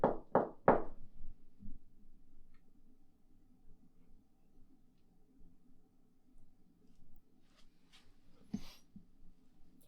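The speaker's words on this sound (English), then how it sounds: "Can you knock on something like this?" Sharp knocks on a hard surface inside a macabre museum: three quick, close raps at the start, then near-silent room tone with a few faint taps and a soft rustle toward the end.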